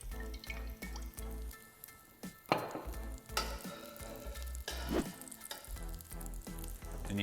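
Cauliflower fritters fry in a shallow layer of oil in a pan with a steady sizzle. Louder crackling bursts come as the pan is tilted and the oil pools in one corner.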